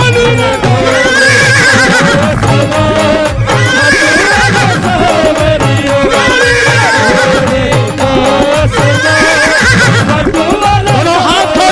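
Horse neighs and whinnies come through loud and repeated over dense devotional music in a Khatu Shyam story about the blue horse's rider, with possible hoofbeats mixed in.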